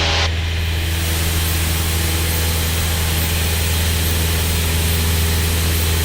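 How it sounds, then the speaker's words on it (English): A Cessna 172N light aircraft engine idling on the ground, a steady loud low drone with a propeller hum running unbroken throughout, no talking. "It's only been half an hour since I started the engine."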